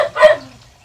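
A dog gives a single short, sharp bark close by on a building site, then it goes quiet.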